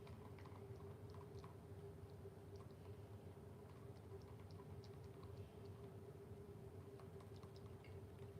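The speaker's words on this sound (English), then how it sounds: "She's chewing on her nails." Faint, irregular clicking and nibbling of someone chewing on their nails, soft scattered bites over a steady low hum and room noise, with no talking.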